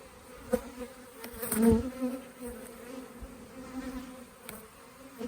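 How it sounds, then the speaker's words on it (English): A swarm of honey bees buzz together in a steady, layered hum around a tree at sunset, with a few individual insects droning louder as they pass close by. "some of the bees are working their way back up into the tree"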